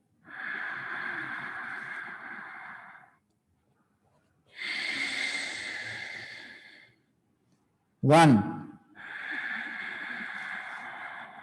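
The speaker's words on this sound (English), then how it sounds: "You heard the sound of breathing" Slow yoga breathing during a guided class: three long, airy inhales and exhales spaced by pauses, with a voice briefly counting in between.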